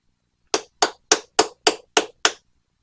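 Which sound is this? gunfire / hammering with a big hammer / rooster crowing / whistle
hammering with a big hammer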